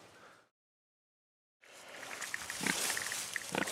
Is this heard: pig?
yes